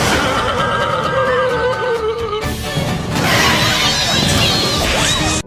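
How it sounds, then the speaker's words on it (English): A horse snorts and whinnies in an animated scene, with loud, breathy bursts and neighing tones layered over whooshing and crashing effects, continuous and close throughout. "suddenly the horse stops and snorts."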